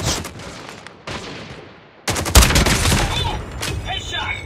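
Gunfire erupts in the mobile shooter game Call of Duty Mobile on the Shipment map, with bursts of rapid shots, a short gap of silence, then a louder, denser barrage with a heavy boom.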